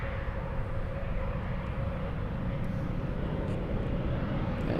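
An airliner takes off at Munich airport with a steady, broad jet-engine roar, held at an even level without a break and heard fairly near.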